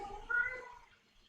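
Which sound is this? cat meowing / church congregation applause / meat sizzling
cat meowing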